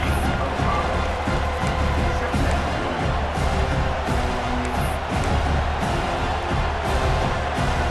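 Stadium crowd noise in the EA Sports College Football 26 video game, a dense, steady roar of a fired-up crowd filling the space with constant cheering.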